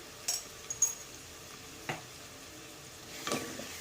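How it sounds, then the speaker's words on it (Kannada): Egg rice fries in a pan with a quiet, steady sizzle, and a few light scrapes and clinks come from stirring. "ಫ್ರೈ ಮಾಡ್ಕೊಳ್ಳಿ"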